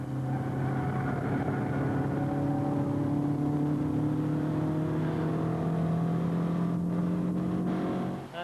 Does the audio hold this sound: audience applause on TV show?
no